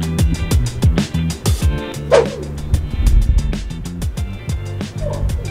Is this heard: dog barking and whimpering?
yes